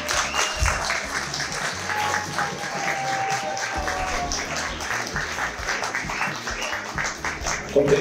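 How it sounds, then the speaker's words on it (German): Applause for a guest at a football fan talk after a 3:0 home win against VfL Osnabrück, a steady run of clapping from a room audience with some background voices and tonal hum. "das war der Applaus für unseren Gast."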